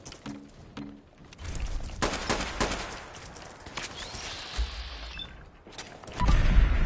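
Repeated gunshots in the Fallout 4 video game, a series of sharp cracks spread over several seconds with mechanical clanks and a shattering impact, ending in a heavier, louder burst.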